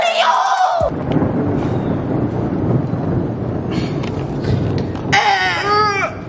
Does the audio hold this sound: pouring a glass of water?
no